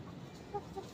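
Several short, soft clucks from chickens sound over a low farmyard hum.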